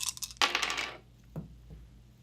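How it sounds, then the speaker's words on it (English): Several dice rolled onto a table during a tabletop game, a brief clattering burst followed by a couple of lighter settling knocks, alone and fairly close. "we roll all of the dice that we have available for this action"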